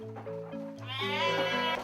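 Young Garut sheep, a four-horned fighting breed, bleats in a long wavering cry that rises and breaks partway through, close and clear with no talk over it.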